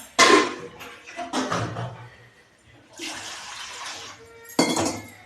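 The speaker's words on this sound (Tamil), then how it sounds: "இப்போ வந்து தண்ணி கொஞ்சம் சேர்த்துக்குவோம்." Water poured into a cooking pot while preparing a spiced meal maker (soya chunk) dish, arriving in several splashing bursts with light clatter of the metal pot between pours.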